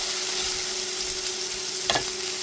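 Onion, garlic, chilies and spices fry in hot oil with a steady, close sizzle, and a single stir scrapes through near the end.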